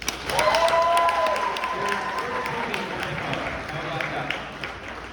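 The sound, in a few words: audience applause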